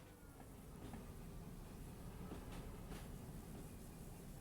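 Steady rolling rumble of a train in the Derail Valley railway simulator, a broad continuous low roar with faint metallic squeals and clicks as the brakes are applied, constant and fairly loud throughout.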